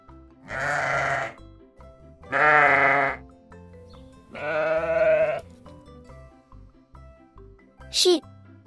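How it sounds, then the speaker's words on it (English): Sheep bleating in three loud, wavering calls spaced about a second apart, followed by a brief high squeak, set against a quiet farm backdrop. "Sheep."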